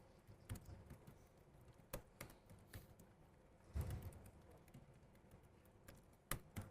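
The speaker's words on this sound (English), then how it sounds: "So there's a lot of typing." Quiet typing on a computer keyboard during a live Swift coding talk at a conference: sparse, irregular key clicks and taps, some louder strokes standing out, heard faintly and alone.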